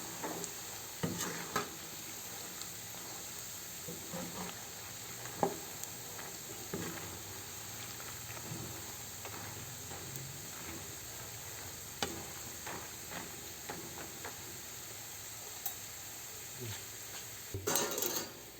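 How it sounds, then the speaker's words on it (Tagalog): Adobong mani, skinless peanuts frying in a pan, stirred with a utensil; soft continuous sizzle under irregular scraping and clinking strokes, with a louder burst of clatter near the end. "Kailangan hinahalo ulit."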